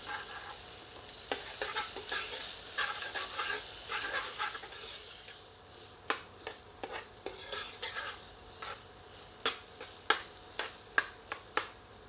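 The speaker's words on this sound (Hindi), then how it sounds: "मध्यम आंच पर इसे 1 से 2 मिनट प्याज के साथ मिलाकर भूनते हैं।" Chopped onion with fresh ginger-garlic paste fries over medium heat in a pan, a low sizzle broken by repeated sharp spoon scrapes and taps as the mixture is stirred, growing more distinct toward the end.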